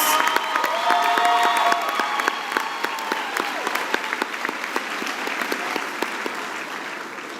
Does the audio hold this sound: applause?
yes